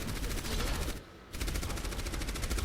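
Turret in Overwatch fires rapid, continuous bursts that break off for a moment, then resume at the same steady pace.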